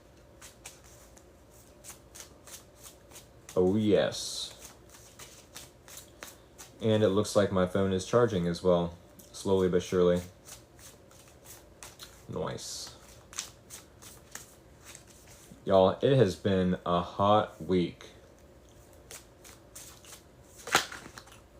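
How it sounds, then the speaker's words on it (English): Someone talks in short bursts while soft card shuffling and riffling continues close by between and under her words. "38 after, we need 3 more shuffles"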